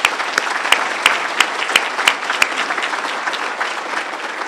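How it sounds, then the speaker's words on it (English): An audience at a Project 180 event claps for men in recovery, with a few distinct nearby hand claps ringing out in rhythm over a steady bed of applause that continues for several seconds. "Can we give them a round of applause?"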